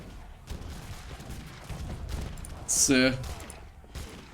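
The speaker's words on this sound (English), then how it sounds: "look at this light cannon spam" Light cannon fire in an Age of Empires match, heard as one sharp burst of in-game gunfire with a rattling tail midway through, beneath steady tournament commentary.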